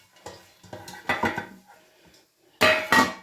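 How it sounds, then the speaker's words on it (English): Metal baking pans clatter and scrape as they are handled and oiled with a brush, a few short knocks and rattles followed by a louder, brighter clanking burst near the end, with no talking. "I am going to oil the baking pans"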